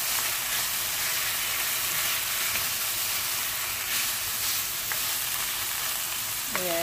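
Chopped onions frying in a pan for Filipino pancit, a dense continuous sizzle and crackle held steady throughout at close range, with faint stirring scrapes and no talking.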